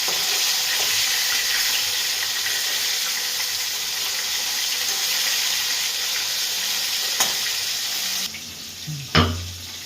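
Fish frying in a pan gives a steady, dense sizzling hiss that fills the scene, with a sharp tap and a small clatter near the end.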